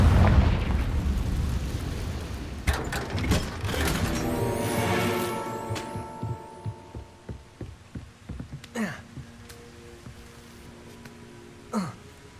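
Confringo blasting spell in Hogwarts Legacy: a series of deep booming blasts and sharp bursts, loud at first with ringing tonal tails, then several scattered thumps and a final pop spaced farther apart.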